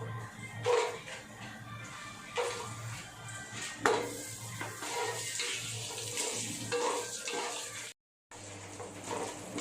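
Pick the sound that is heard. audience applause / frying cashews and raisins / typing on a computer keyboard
frying cashews and raisins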